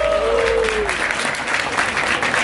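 Steady applause from a crowd at a rap battle fills the space, a brief voice rising underneath at the start, then continuous clapping throughout.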